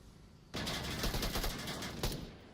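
Rapid automatic gunfire erupts in a competitive Onward VR match, a loud dense burst of shots that runs steadily for about two seconds with a sharper crack near the end.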